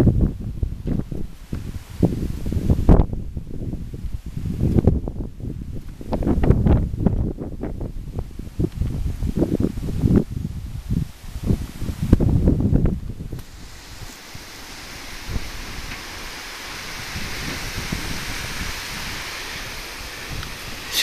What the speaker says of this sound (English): hearing some wind.